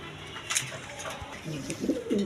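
A pair of Serazi Lahori pigeons coo close by in a series of soft, low, throaty phrases that swell toward the end over a faint background hum.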